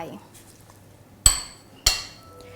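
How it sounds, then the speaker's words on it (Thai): Two sharp, loud knocks about half a second apart as stalks of lemongrass are bruised for Thai tom kha soup, each hit ringing briefly in a quiet kitchen. "ก็ตะไคร้ค่ะทุบสักนิดนึงนะคะ"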